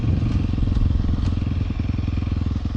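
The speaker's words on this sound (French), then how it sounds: "C'est j'accélère, je n'ai pas besoin d'embrayer." A Sherco 300 supermoto motorcycle engine revs up and pulls harder, a steady throbbing roar with rapid low pulses, close and loud throughout.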